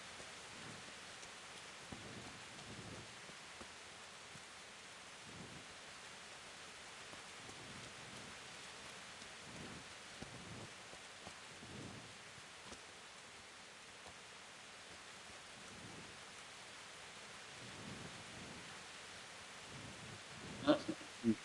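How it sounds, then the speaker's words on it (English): Steady rain with low rumbles of thunder in the medieval video game Kingdom Come: Deliverance, a constant hiss running throughout with occasional soft thuds, while a voice speaks intermittently. "Game's always raining."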